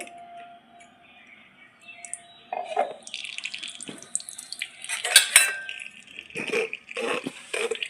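A green spinach paste is poured and strained, giving faint liquid trickles and drips with light clinks of a bowl and utensil, growing busier toward the end with soft splashes and scraping.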